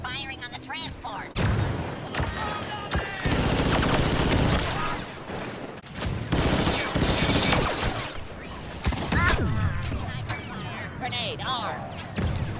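Rapid blaster gunfire and bursts crackle loudly in a Star Wars Battlefront 2 galactic assault battle, with sustained volleys, explosions and player voice chat mixed over the fighting.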